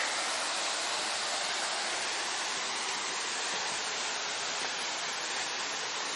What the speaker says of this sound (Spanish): Agua vertiendo por todos lados